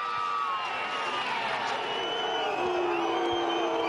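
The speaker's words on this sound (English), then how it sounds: "Ooh, the crowd don't like him." Roadside crowd at the 2011 Giro d'Italia booing and jeering a cyclist, a sustained loud roar of voices with whoops rising over the racket, heard up close.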